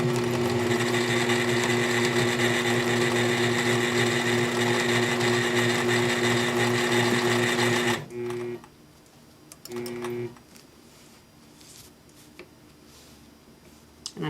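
A sit-down quilting sewing machine stitching with a ruler foot around the edge of a wreath design, a loud steady motor hum with rapid needle strokes that stops abruptly, followed by two brief restarts.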